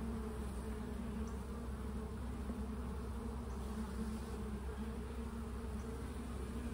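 Honeybees drone steadily in a low, continuous buzz during an open hive inspection, the hum filling the whole stretch without pause and with no voices.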